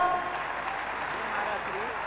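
An audience at a Jain muni's diksha anniversary celebration in Agra applauds. The dense, steady clapping runs throughout, mixed with voices.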